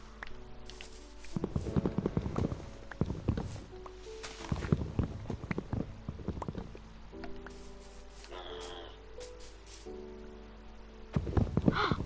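A white horse walks in a survival video game, its hooves giving soft, steady clip-clop steps under quiet background music and faint talk.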